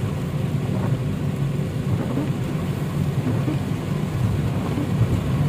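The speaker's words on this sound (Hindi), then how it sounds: "ये देखें माशाल्लाह कितनी तेज़ बारिश है।" Heavy rain pounding on a car driving along a road in Madina, a dense, constant roar with low rumble, steady and loud throughout, no voices.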